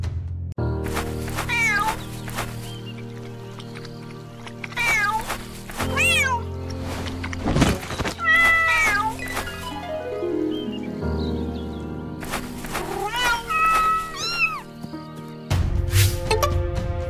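A black modern domestic cat meows in several separate drawn-out calls, loud and close, with gaps between each cry and no talking.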